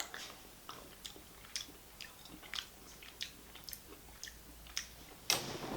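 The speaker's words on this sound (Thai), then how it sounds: "ต้องกัดเคี้ยวดูนะครับ" Watermelon-flavored hard candy bitten and chewed close up, giving a run of small crisp crunches at an irregular rhythm, fairly quiet with no talking.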